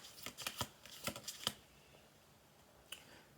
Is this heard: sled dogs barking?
no